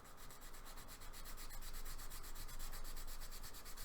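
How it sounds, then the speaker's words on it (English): Primer on a Jaguar E-Type body panel lightly hand sanded with 600 grit paper, a steady soft rasping rub that continues without pause at close range. "Give it a light sand, and you'll just see the marker disappear."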